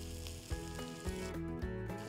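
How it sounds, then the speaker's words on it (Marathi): Elephant foot yam (suran) slices shallow frying in oil in a pan, giving a steady close sizzle with a few soft clicks and bumps of the pan and no voices. "आता ही छान अशी दोन्ही साईडनी फ्राय करून घ्यायची, शॅलो फ्राय."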